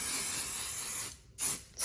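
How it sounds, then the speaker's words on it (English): Adhesive sprays from an aerosol can onto an embroidery hoop for a Brother PE800 machine, a long steady hiss that cuts off briefly, followed by a short second burst, close and alone. "We're gonna spray the hoop"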